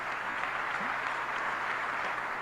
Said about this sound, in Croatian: Give the translator a round of applause.